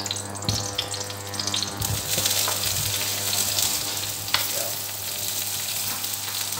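Eggplant frying in oil in a wok, a steady close sizzle that swells as the pieces hit the pan and carries on throughout with light clatter.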